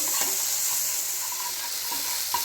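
Masala paste for bhetki fish kalia fries in a pan with a dense, close sizzle, broken by a few soft stirring scrapes, and nobody speaks.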